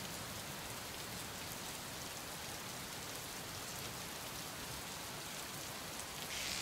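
Steady rain in a 2011 PC point-and-click adventure game, a continuous, quiet hiss of falling rain with no distinct drops or thunder, unchanging for several seconds.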